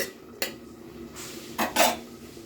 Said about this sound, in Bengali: এবার আমি নাড়িয়ে নিচ্ছি।